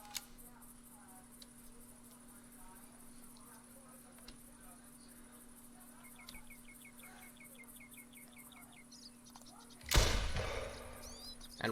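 A single hunting rifle shot fired at a whitetail buck, with a sharp, loud crack near the end that rolls out into a long echo across open country, preceded by quiet birdsong and faint ambient noise.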